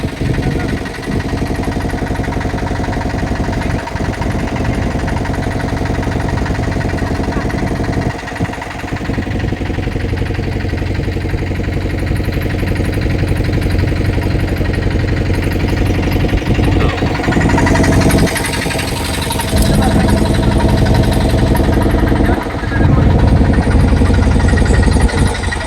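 A boat engine drones loud and close on the Ganges at Varanasi, a steady rattling mid-pitched chug that holds throughout with slight surges and dips, no talk over it.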